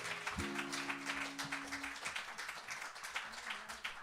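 A small audience applauding after a song at an intimate house concert, steady scattered clapping throughout, with a brief sustained tone and a voice speaking at the start.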